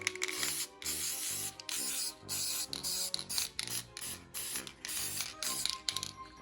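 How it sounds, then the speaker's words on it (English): Repeated short hissing bursts of a spray paint can painting a small skeleton decoration, close up, with a rattling rhythm between sprays. "let's spray paint this guy now and see how he looks"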